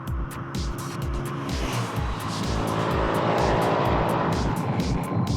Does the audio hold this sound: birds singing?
no